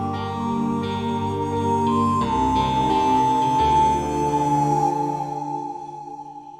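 A phone ringing in a steady electronic tone with a held melodic pitch that shifts a few times, loud and close, then fading toward the end with no one speaking.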